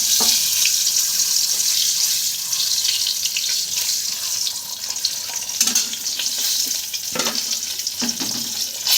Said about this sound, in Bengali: ডিমগুলো মোটামুটি ভেজে নিচ্ছি ভালো করে